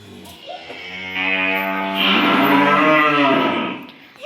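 Cows mooing on a farm, one long, loud, drawn-out low, close by and heard on its own with no talk over it.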